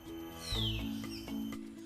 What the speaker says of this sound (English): That's the call of the common hill myna.